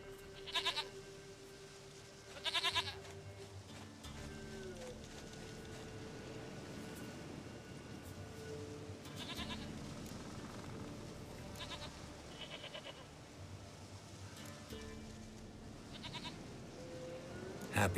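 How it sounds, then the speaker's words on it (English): Goat in The Witcher 3 giving several short, bleating calls spaced a few seconds apart over a steady low ambient game background, moderately close and fairly faint. "Goat of mine, dearest, sweetest goat."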